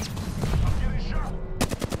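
Rapid bursts of gunfire in the video game Apex Legends, a close volley at the start and another sharp burst near the end, with a voice in the mix.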